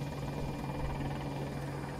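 A video game helicopter parked on high ground, its engine giving a steady low droning hum with a constant tonal whine, even and unbroken for about two seconds with no talking.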